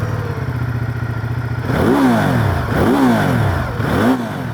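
A loud Ducati motorcycle engine revs up and down in three rising surges, close by and growling, after a steady idling drone.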